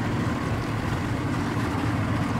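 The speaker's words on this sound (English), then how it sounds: "starting to cut a path through the 4-inch thick ice to get to the engine." Boat cutting a path through 4-inch-thick ice on a frozen lake, a dense, steady rumbling grind of engine and crushing ice that is loud and continuous throughout without pause.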